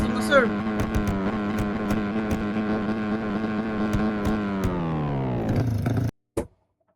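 A motorcycle engine in the Roblox video game idles steadily and loudly for about six seconds, its harmonic drone sliding lower toward the end before cutting out, followed by one short sputter.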